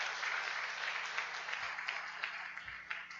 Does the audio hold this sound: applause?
yes